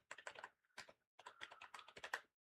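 Code being typed on a computer keyboard in quick bursts of clustered keystrokes, with a short pause near the middle and a longer quiet stretch at the end; close and clear, no talking.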